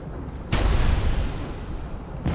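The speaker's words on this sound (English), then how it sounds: "Explosion time." Red barrel blowing up in the video game Outbreak Shades of Horror: a sudden loud close blast that lingers in a rumbling decay, followed by a second sharp impact near the end.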